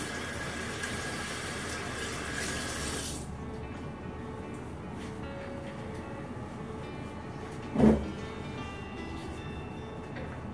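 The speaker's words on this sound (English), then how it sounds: "Hold on, I'm gonna wash my hands really fast." Hands being washed under a running tap, a steady broadband rush of water for about three seconds that then cuts off, leaving a quiet room with one brief knock near the end.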